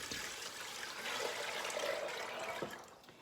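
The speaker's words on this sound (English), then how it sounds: "you're gonna add your 10 cups of water once again" Ten cups of water pour into a cooking pot in a steady, moderately quiet splashing stream that lasts about three seconds before tapering off.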